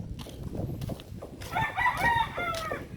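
Backyard chickens in a Philippine yard, with a rooster crowing over soft clucking and scratchy ambient farm noise; the crow rises loud in the second half.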